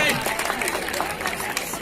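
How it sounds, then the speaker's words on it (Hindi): Sustained applause from an audience at a school science quiz prize ceremony, continuous dense clapping with crowd chatter and voices mixed in. "लगातार ताली बजाएंगे"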